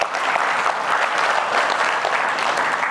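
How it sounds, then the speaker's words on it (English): An audience at a cannabis and real estate event gives a steady round of applause for Cannabis 360, dense even clapping holding at a moderate level for a few seconds. "if you would give a round of applause for Cannabis 360"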